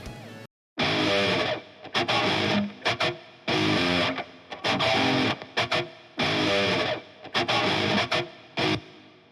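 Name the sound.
distorted electric guitar rhythm tone, amp plugin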